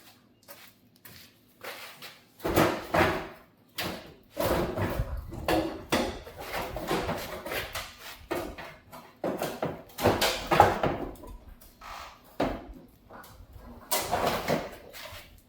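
A truck door, stuck hard, is yanked open by its handle in a garage during an engine and fender teardown: a long run of repeated metallic clunks, rattles and thumps in uneven bursts, fairly close, with no talk.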